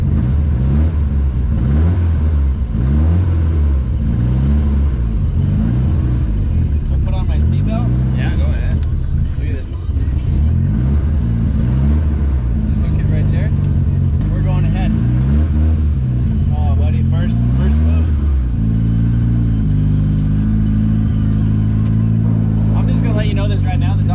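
A Datsun 510 fitted with an SR20DET engine runs loudly and close, its revs rising and falling in repeated sweeps with a steady low rumble underneath, while people talk over it.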